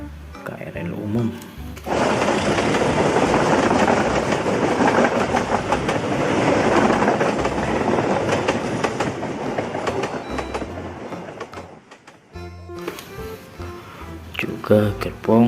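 An Indonesian KRL commuter train rolls past close by, a loud sustained rumble with rhythmic clickety-clack of wheels on rail joints for about ten seconds, then fades as a voice speaks over the quieter tail.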